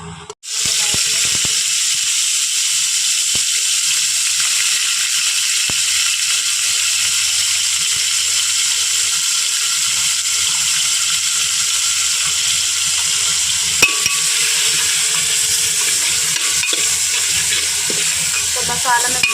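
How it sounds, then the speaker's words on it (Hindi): Vegetables being tempered sizzle and crackle steadily in a hot pan for a long stretch, with an occasional stir or clink. "तो यहाँ पे मैंने सब्ज़ी भी छौंक दी है।"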